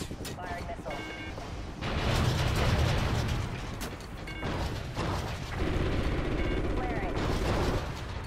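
A missile launches during a Call of Duty Ghosts air support run, a loud whooshing, rumbling burst amid mechanical clatter, with two sustained roaring surges and scattered clicking tones from the game.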